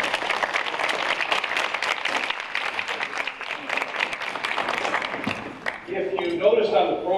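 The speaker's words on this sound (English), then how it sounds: "So let's give Tran a round of applause as well." An audience at a school foundation hall of fame event applauds in a steady, full round of clapping that fades toward the end, when other sounds take over.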